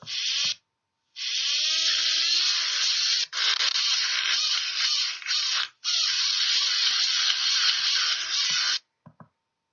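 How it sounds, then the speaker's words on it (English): Dental polisher buzzing over teeth in a surgery game, a high electric whine in several bursts of a few seconds each separated by short gaps, close and steady, ending with a couple of brief clicks. "Run the polisher over the teeth to clean them."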